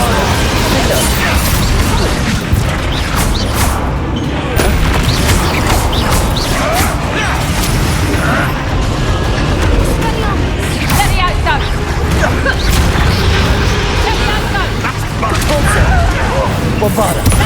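Bombarda spell explosions during combat in Hogwarts Legacy: a continuous barrage of booms, crashes and magical impacts, loud and dense throughout, with a voice talking over the battle.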